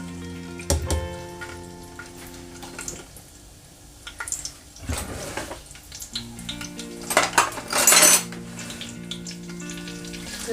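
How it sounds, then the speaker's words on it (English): Garam masala tipped into hot oil in a pot while cooking beef biryani, giving a soft sizzle and frying hiss with a few clinks of utensils, swelling into a brighter burst of sizzling near the end. "the oil is hot now, so we're just gonna add this garam masala"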